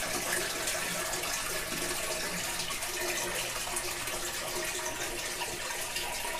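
Water draining through a bell siphon in a desktop aquaponics system into the tank below, a constant close gush and gurgle with no break throughout.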